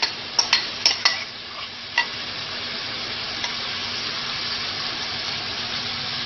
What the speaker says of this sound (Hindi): अब इनको 2 मीडियम फ्लेम के ऊपर एक पैन में रखेंगे ऐसे।